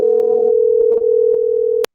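A steady electronic tone from a test phone placing a call, holding loud and unbroken for nearly two seconds before cutting off abruptly, with no talking.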